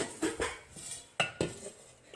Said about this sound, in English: these are the pans that came with the solar cooker